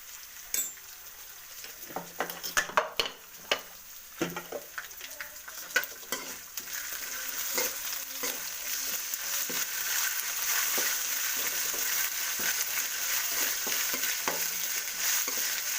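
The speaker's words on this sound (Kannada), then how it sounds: "ಚೂರು ಶುಂಠಿ ಹಾಕೋತೀನಿ ಪೇಸ್ಟ್ ಮಾಡಿಕೊಂಡು" Ginger paste hits a hot pan for an instant vegetable idli, first with scattered clinks and scrapes of a stirring spoon, then a soft, continuous sizzle that swells and holds steady.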